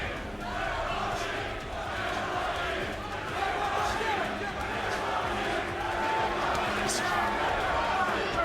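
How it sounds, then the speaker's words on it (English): A boxing arena crowd roars and chants a fighter's name during a bout, a steady loud mass of voices with rhythmic chanting swells throughout. "Crowd chanting Triple G, Triple G."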